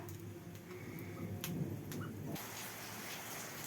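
Rain falls steadily outside, heard from a kitchen, with a low thunder rumble underneath for the first couple of seconds before the roar settles into an even wash.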